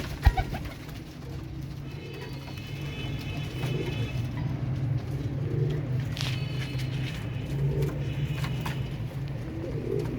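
Pigeons coo softly in a low, repeated rhythm close by, under a steady low background hum, with a few sharp knocks near the start and occasional faint chirps.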